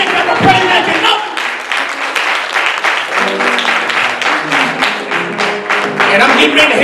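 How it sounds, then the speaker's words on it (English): A church congregation claps in praise during a sermon, a dense, sustained round of applause mixed with voices and music-like tones underneath, loud and steady throughout. "Y'all better give God a hand clap of praise"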